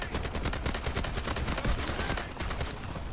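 Sustained SCAR-H rifle fire in the video game Delta Force, a steady run of fairly slow, heavy automatic shots at close range, loud and continuous with no pause.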